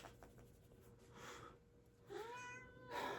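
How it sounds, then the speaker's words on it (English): A needy pet cat meows at close range, two or three separate drawn-out meows with pauses between them, over a quiet room. "This is the most needy cat you will ever meet in your life."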